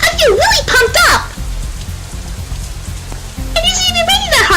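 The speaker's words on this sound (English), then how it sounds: "It isn't even raining that hard anymore" Steady rain hiss in the visual novel game Katawa Shoujo runs beneath background music and voice sounds, a soft continuous wash heard under the other audio.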